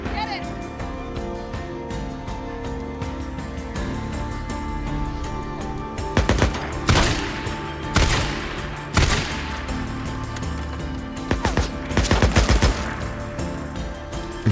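Gunshots ring out in the zombie survival game Days Gone, several sharp loud blasts spaced irregularly in the second half, over a steady ambient bed with talk throughout.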